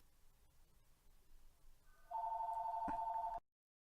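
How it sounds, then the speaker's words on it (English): A telephone rings in an episode of the animated series Avatar: The Last Airbender, a loud electronic double-tone ring bursting in after quiet background sound and cutting off abruptly about a second later. "there's a phone call for you"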